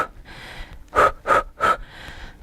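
A cyclist on a long cyclotouring road ride gasps for breath, with three loud, close, heavy breaths in quick succession between quieter rasping inhales.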